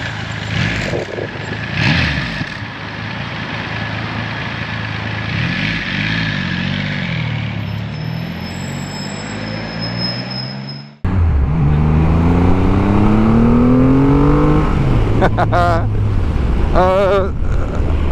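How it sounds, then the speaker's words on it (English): A Triumph Rocket 3 Storm with its triple engine being ridden, heavy wind buffeting at first, then a loud, smooth engine note that climbs in pitch as the bike accelerates hard. "we've got the smoothness of the triple engine"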